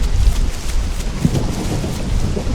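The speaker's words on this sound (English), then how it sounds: "Ooh, lightning." A low rumble of thunder during a rainstorm in The Isle video game, with rain hissing throughout and a soft peal rolling in and out, fairly loud with no voices.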